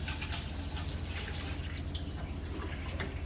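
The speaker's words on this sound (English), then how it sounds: "Wash your hands halfway through." Water from a tap runs steadily over hands being washed at a kitchen sink partway through preparing food with raw egg, a continuous splashing rush with no talk.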